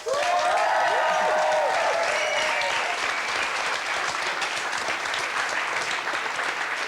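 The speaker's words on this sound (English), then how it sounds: "Round of applause for Anna Friel." Loud, dense applause from a television studio audience rolls in at full strength, then settles into steady clapping that holds for several seconds.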